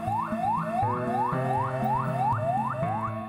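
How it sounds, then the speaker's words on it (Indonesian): A patrol car siren wails in a repeating rising sweep, loud and continuous, sounded by enforcement officers to break up a crowd at a late-night clothing bazaar. "Petugas Satpol PP dan Satgas COVID-19 membunyikan sirene mobil patroli untuk membubarkan kerumunan warga"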